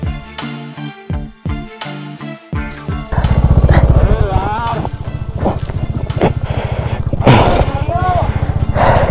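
Motorcycle ridden on a steep, slippery dirt trail near a Kanatal campsite, its engine loud and close with a steady throbbing putter that rises and falls with throttle changes, after an opening stretch of choppy engine bursts.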